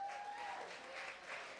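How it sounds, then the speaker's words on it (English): Spelling bee audience at an adult competition gives a round of applause, steady clapping from a crowd filling the room throughout, with a brief tone at the start. "Give yourselves a round of applause."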